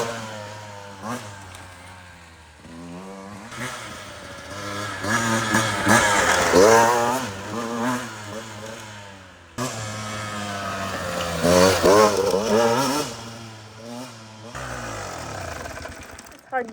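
A Beta motorcycle, ridden to test its factory suspension, revs its engine as it passes, rising and falling twice in loud surges, with brief talk in the background.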